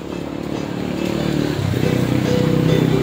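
A Honda XRM 110 motorcycle with an intermittent electrical power-loss fault is kickstarted. Its single-cylinder engine catches after a moment and settles into a loud, close, steady idle.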